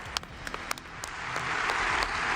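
Crowd at a political rally breaks into clapping, starting with a few sharp, scattered claps and swelling within seconds into steady, dense applause.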